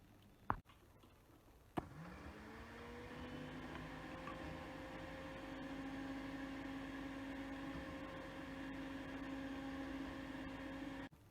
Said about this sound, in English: Put this together into the blender.